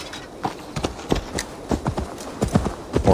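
Horse hooves clip-clopping in the video game Assassin's Creed Valhalla, a run of sharp, fairly close hoof strikes in an uneven walking rhythm, with a faint bed of background sound underneath.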